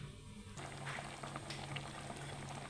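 A pan of soybean curry with added hot water bubbling and boiling steadily, with a continuous crackling, popping simmer heard up close and no voices.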